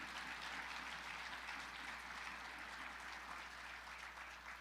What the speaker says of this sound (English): See that little tyke up there clapping?